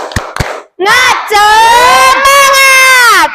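A couple of sharp claps, then a group shouting a long, sustained chant in unison, loud and close, with a brief break midway.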